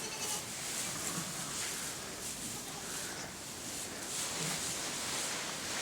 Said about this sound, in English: These sheep's just lambed.